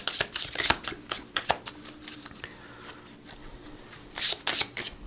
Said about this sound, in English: I got this Metatron deck, Oracle cards, and I want to do one